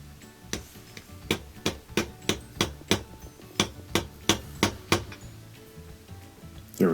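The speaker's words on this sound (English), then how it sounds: "I'm going to use a small hammer, just 5 or 6 taps to get it to sit" A small hammer taps a motor coupler into place on a Kenmore washer, a dozen sharp metallic strikes falling in two quick, evenly spaced bursts, close and clear with quiet pauses between.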